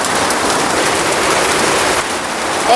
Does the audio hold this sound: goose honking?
no